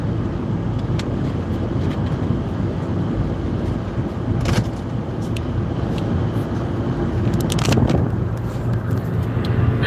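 A car drives along steadily near an industrial shop, its engine hum continuous and broad with wind buffeting the microphone and a few brief knocks and rattles, no talk.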